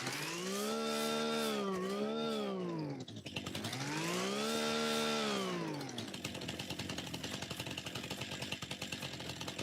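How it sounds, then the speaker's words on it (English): A farming video game machine's engine with a whiny, leaf-blower-like tone, rising and falling in pitch through two revving sweeps, then settling into a steady buzzing drone, loud and close with no talk. "Sounds more like a leaf blower."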